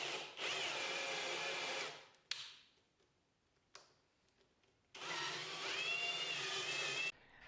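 Power drill driving set screws into floating shelf brackets: two loud bursts of high whining motor spin, each lasting a couple of seconds, separated by quiet pauses with short clicks.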